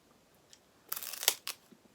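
Crunching of corn groat chips being chewed indoors: a few sharp, close crackles in a quick cluster, with near silence around them.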